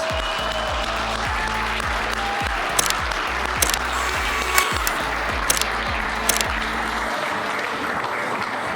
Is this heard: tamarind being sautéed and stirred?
no